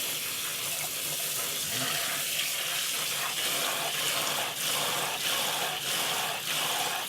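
Rice being rinsed in a pot, running tap water filling it and being poured out, a steady close splashing wash with faint intermittent clinks, without speech.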